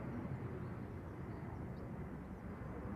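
A JetBlue airliner departs Amsterdam Schiphol on a windy day, its engines a steady, distant broadband roar with heavy low rumble and wind buffeting throughout.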